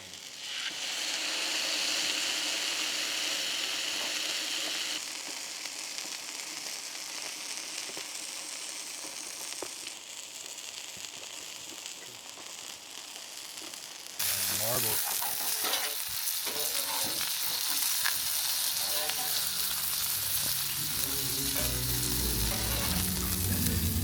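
Food sizzles and crackles steadily in a hot frying pan, with the hiss growing louder and busier partway through as it is stirred.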